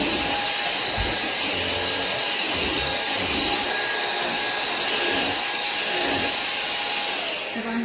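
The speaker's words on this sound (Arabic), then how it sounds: "طبعا هشفط الكنبه كلها عشان لو في اي شعر اي تراب اي حاجه" A vacuum cleaner with a rotating brush head running over a sofa, giving a steady high-pitched whine and airy rushing hum at close range, continuous and unbroken for the whole stretch.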